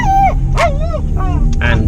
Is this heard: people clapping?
no